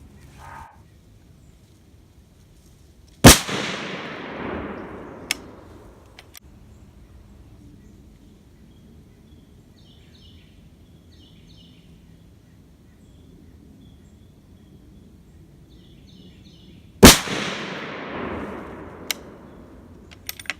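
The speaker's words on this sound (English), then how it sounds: "I'm going to do a couple shots just to see if we're somewhat dialed in, and then we'll do a 5-shotter" Two loud, sharp rifle shots from a Sig Sauer SSG 3000, about fourteen seconds apart, each ringing off into a fading echo over quiet outdoor background.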